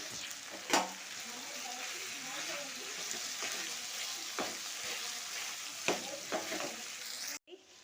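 Garlic paste frying for chicken fry, a steady close sizzle with occasional sharp knocks and scrapes of a spoon stirring in the pan, ending abruptly.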